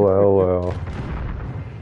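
Gunfire from a Call of Duty match on PS5: a loud burst of shots and booms after a sustained tone, continuing as a rumbling clatter for over a second.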